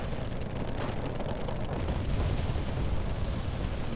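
Mortar fire in the Wargame Red Dragon strategy game, a dense continuous barrage of booming detonations and rumbling impacts blended together, heavy and loud with no talk over it.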